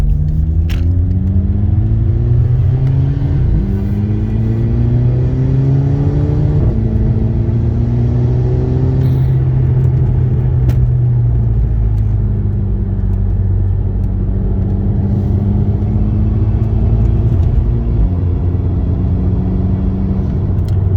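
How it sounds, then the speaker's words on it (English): A Volkswagen GTI Mk5 engine drones steadily from inside the car, its pitch rising and falling smoothly as it pulls through gears around 50, with a deep rumble, airy intake whoosh and diverter valve sounds. "I think you have more of a pronounced sound with the intake and everything"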